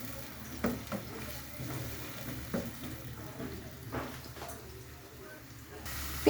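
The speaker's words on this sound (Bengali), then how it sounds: "এখানে 1 কাপের মতো পেঁয়াজ কুচি দিয়ে দিলাম। পেঁয়াজটাকে এখন ভালোভাবে নেড়ে ছেড়ে দেবো।" Chopped onion, about a cup, frying in oil and stirred in a pan while cooking a quail roast, with a steady low sizzle and scattered scraping stir strokes; a voice talks faintly underneath.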